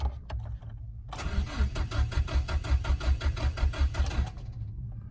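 A car engine cranks over rhythmically for several seconds during a start attempt without catching, the starter's steady chugging pulses loud and close, preceded by a few brief clicks.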